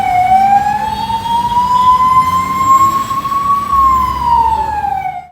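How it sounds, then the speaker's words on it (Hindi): A loud wailing ambulance siren rises slowly and then falls, close by, over a low rumble of engine and traffic. "पुलिस ने जैसे ही एम्बुलेंस की आवाज़ सुनी"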